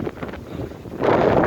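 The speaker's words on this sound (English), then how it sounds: "Yeah, it's super windy." Strong wind gusting around 40 mph outdoors, a broad rushing roar buffeting the microphone and surging louder toward the end.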